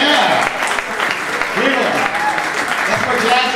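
A jazz concert audience applauds and cheers loudly and continuously, with whoops and shouting voices rising above the dense clapping.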